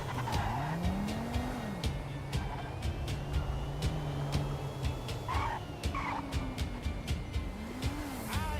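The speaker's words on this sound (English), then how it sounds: "This is an electric car, you know, that's why it doesn't make a bunch of engine noise." A car whines along with a smooth electric hum and rising-falling pitch sweeps, with brief tire squeals and sharp clicks, from an electric car driving in Grand Theft Auto Online.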